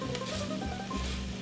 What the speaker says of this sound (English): Get a little fry going on with our veggies.